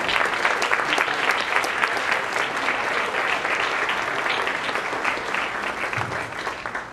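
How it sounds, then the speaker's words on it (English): Loud, sustained applause fills a room at a high school senior athlete dinner as the audience honors tennis players, dense steady clapping throughout that eases slightly near the end. "I'd like to give them a round of applause."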